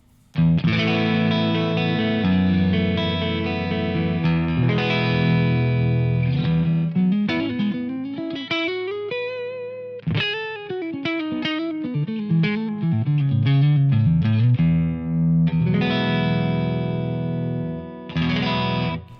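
An electric guitar plays through a Jensen Tornado speaker in a 1x12 extension cabinet, via a Two Notes DynIR impulse, loud and up close: sustained chords and melodic runs with a thick, full tone, with no voices.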